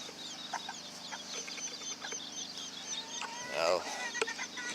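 A mother hen gives soft, repeated clucks to gather her chicks back under her. The clucks are faint and sit among quiet chick peeps and background rustle, with a brief louder burst of calls near the end.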